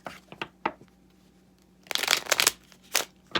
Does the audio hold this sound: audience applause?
no